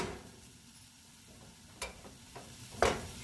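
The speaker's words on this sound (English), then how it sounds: "We're going to add 1 tablespoon of butter. We're going to stir that in" Spoon stirring butter into black beans simmering in a pan, faint low sizzle with a few quiet scrapes and clicks against the pan, no talking.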